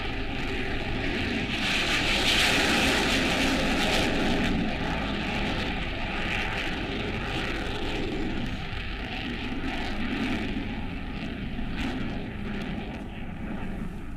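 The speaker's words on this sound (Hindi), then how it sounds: "राफेल, मिराज, जैगुआर, सुखोई जैसे जंगी एयरक्राफ्ट को शामिल किया गया है, जहां ये एयरक्राफ्ट अपनी ताकत का मुजाहिरा करते नजर आ रहे हैं" Indian Air Force fighter jets such as Rafale, Mirage, Jaguar and Sukhoi fly past during large military drills, their engines a steady, loud roar that swells around two seconds in and holds broad and rumbling throughout, with no speech.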